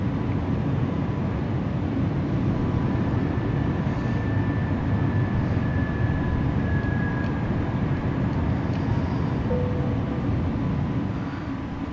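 Airliner landing gear retracting just after takeoff in Microsoft Flight Simulator: a thin mechanical whine rises briefly through a loud, steady roar of engines and rushing air, with no talking.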